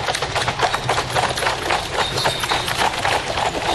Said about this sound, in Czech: Předjela nás najednou brička tažená antracitově černými koňmi.